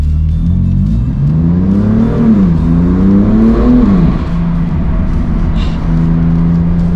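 A BMW M4 GT4 on its standard exhaust revs hard inside a tunnel, loud and close, its engine note climbing and falling twice before settling into a steady high drone, with no talking.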